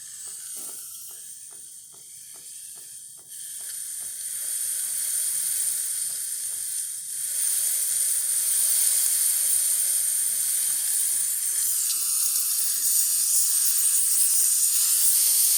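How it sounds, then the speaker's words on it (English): The steam wand on a DeLonghi La Specialista EC993X espresso machine sends out a steady, loud hiss of steam that builds after a few seconds and keeps going, with faint clicking underneath early on. "Let's test the steamer. Needs a little bit of time to get hot."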